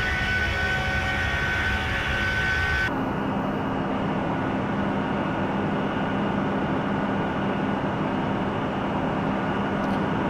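A QualityWings Boeing 757-200 airliner in Flight Simulator drones with a steady, loud engine roar; the tone and texture shift abruptly about three seconds in, then the broad, continuous rumble holds to the end.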